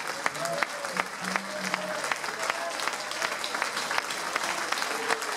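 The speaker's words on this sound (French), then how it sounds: "Je vous propose de vous lever et de vous applaudir." An audience on its feet at a motorcycle chapter's twentieth anniversary party in Morzine claps steadily, with distinct sharp individual claps over a continuous crowd wash and faint voices mixed in.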